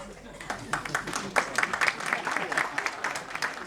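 An audience at a live stage program applauds continuously, a dense, moderately distant patter of many hands that swells slightly and holds steady throughout.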